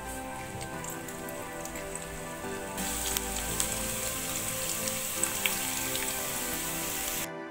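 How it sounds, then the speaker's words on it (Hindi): Chopped onions frying in a pan, browning lightly for a Muradabadi biryani: a steady close sizzle and crackle that thickens and grows louder partway through, running continuously with small pops and no talk. "अब हम अपनी प्याज को अच्छे से भूनेंगे, हल्की ब्राउन करेंगे इसको।"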